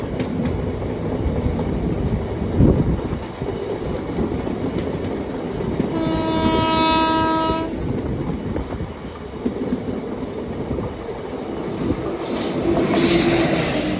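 A light locomotive running without carriages rumbles steadily past, nearby and loud, and sounds one clear horn blast partway through.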